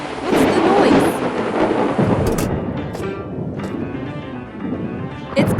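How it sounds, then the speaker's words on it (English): A deep, rolling rumble of thunder dominates a storm, with a steady wash of rain underneath and some sharper crackling bursts that rise again toward the end. "Thunder and lightning ahead!"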